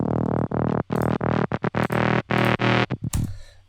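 Detuned, self-modulating ring-modulated synthesizer with a sawtooth character, a loud, gritty, distorted tone played in choppy rhythmic bursts with sharp cutoffs, ending on a low decaying note, with no voices.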